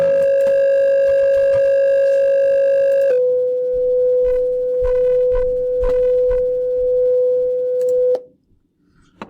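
Two close steady sine tones sound together and beat with a slow wavering pulse, then one tone drops away and a single pure tone holds before cutting off.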